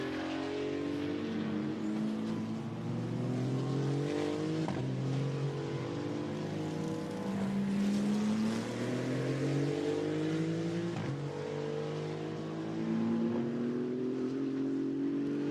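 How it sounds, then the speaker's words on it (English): A GT2 race car circulates at the Barcelona circuit in qualifying, its engine droning loudly and steadily with rising and falling pitch sweeps through gear changes, heard without commentary over it. "So Philippe Pret heading up towards the end of the first sector"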